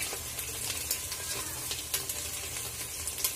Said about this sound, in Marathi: आपल्याला हे छान असं तेलामध्ये आता हा मसाला असा मिक्स करून घ्यायचा आहे